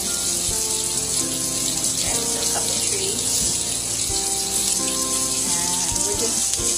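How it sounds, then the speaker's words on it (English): A kitchen sink fills with a gushing stream of water from the tap for a Labrador puppy's first bath, a loud, steady splashing rush that runs throughout while a voice talks faintly underneath. "we just put a little bit of water in the sink"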